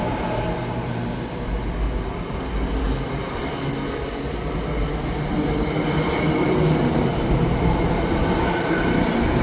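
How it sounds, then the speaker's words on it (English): A nine-car commuter train rumbles steadily through Metropark station at speed without stopping, a dense continuous roar of wheels and rail noise that swells slightly toward the end. "This train made no stops between Newark Liberty Airport and here."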